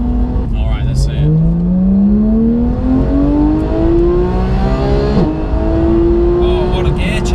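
A Porsche 911 Carrera S engine revs hard under acceleration and rises steadily in pitch, then drops briefly at a quick gear change and climbs again. The sound is loud and close, with a constant roar throughout.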